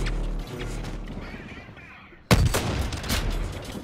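A sniper rifle in the shooter game BL Retribution fires a loud, sudden gunshot midway, set against continuous game background noise and effects.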